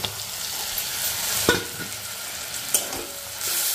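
Chopped onion hits a hot frying pan and sizzles steadily, with a few sharp clinks of a stirring spoon against the pan over the continuous frying hiss.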